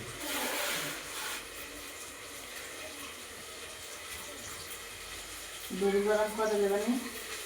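Rice is rinsed in water before cooking in a village kitchen, making a brief burst of swishing and splashing, then quieter sloshing. A voice talks toward the end.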